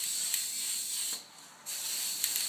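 A steady, bright hiss of aerosol spray paint onto wooden shutters, continuous with a brief pause in the middle before it resumes, fairly close.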